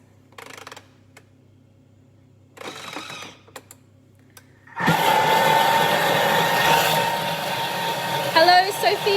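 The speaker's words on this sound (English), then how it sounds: "And then just mix that for 30 seconds on speed 6." A Thermomix mixes brandy and vanilla at speed 6, starting after a few quiet clicks and handling noises, then a loud, steady motor whir that holds for several seconds.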